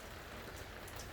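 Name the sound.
heavy rain falling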